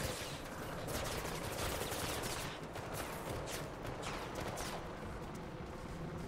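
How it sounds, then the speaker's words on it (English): Sustained automatic gunfire from the video game Mirror's Edge Catalyst, a dense rattling fusillade that runs loud and steady through the whole stretch with no talk over it. "Who's shooting at me?"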